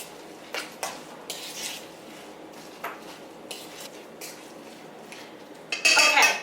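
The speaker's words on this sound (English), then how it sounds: "I'm giving this a nice stir." A spinach, leek and feta filling stirred in a pan, with soft irregular scrapes and clinks of a utensil against the pan under a faint sizzle, ending in a brief louder rattle.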